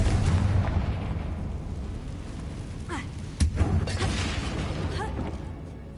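A Confringo blasting spell explodes in Hogwarts Legacy, a single sharp boom bursting out of a dense, roaring wash of game noise and rumble that fills the whole stretch.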